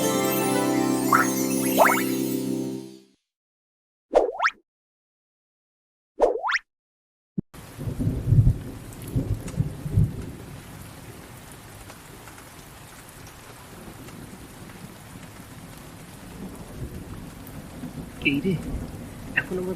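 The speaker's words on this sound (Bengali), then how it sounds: "মুসলধারী বৃষ্টি শুরু হলো যে চারদিকে যে বিদ্যুৎ চমকাচ্ছে" Heavy rain pours down during a stormy night in a Bengali horror cartoon. Brief tonal sounds and a few seconds of silence come first, then a steady, dense downpour fills the rest with occasional low rumbles.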